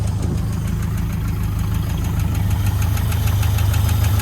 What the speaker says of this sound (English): No gauges, no transmission, and the engine sounds really weird.